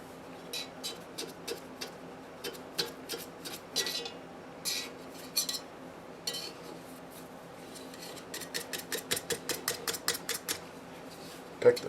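A sharp knife slicing through braided-top sourdough bread dough: a quick series of crisp, short cutting strokes in uneven rhythm, close and fairly quiet, over a faint steady hum.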